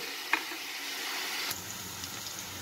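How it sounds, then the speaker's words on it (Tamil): A small chopped onion sizzles steadily in hot oil in a pan, a continuous bright frying hiss with an occasional pop and stirring scrape, heard close with no talk. "ஆனியை நல்லா இந்த ராஸ் மல் போகிற வரைக்கும் நல்லா ஃப்ரை"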